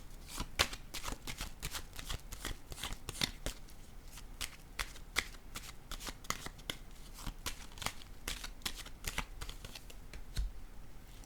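Tarot cards shuffled and laid down on a table, a steady run of crisp, close riffling snaps and soft slaps with no talking.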